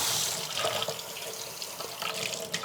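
Hands washed under a running kitchen tap, steady water splashing and spattering into a sink for a few seconds with no talk, during home cooking.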